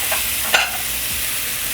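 A smashburger patty pressed onto a hot griddle for a cilantro-jalapeno smashburger with onions, giving a steady close sizzle with a brief louder burst as it is pushed down.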